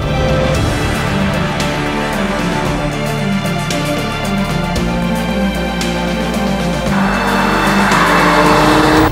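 Mercedes-Benz CLA 45 AMG turbocharged engine held at the redline in manual mode, a loud sustained rev with steady high pitch that shifts tone partway through, continuous with no talk.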